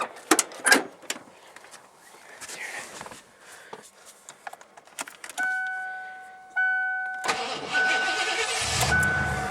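Keys jingle and click, then the engine of a 1988 Mercury Grand Marquis cranks with a chime sounding, catches on the second try, and settles into a steady rumbling idle.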